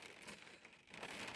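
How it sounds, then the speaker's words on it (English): Rain falling steadily and close by, a continuous broadband patter outdoors at Navan racecourse, fairly faint and with no talk over it. "I apologise for the noise of the rain."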